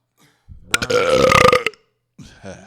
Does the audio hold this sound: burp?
yes